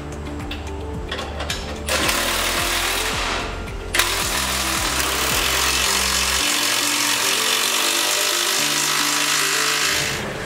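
A power tool drives and tightens the mounting bolts of a Rockarmor 120 Series bull bar on a Toyota Prado, making loud mechanical whirring and rattling in several consecutive bursts of a few seconds each, with no one talking.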